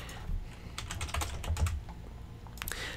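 Fingers typing on a computer keyboard while setting up a printer in Windows 10, a brisk burst of light, close key clicks that pauses briefly and then ends with a couple of final taps over faint room hum.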